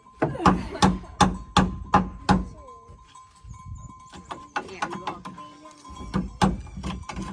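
Nails hammered into wooden boards while building a rural house: a quick run of sharp, evenly spaced strikes, a pause filled with rustling and voices, then another burst of blows near the end.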